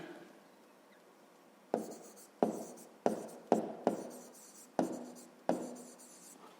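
Pen or pencil writing on paper in a quiet room during a fifth-grade maths exercise, a series of about seven short sharp strokes and taps at an uneven pace, close and soft.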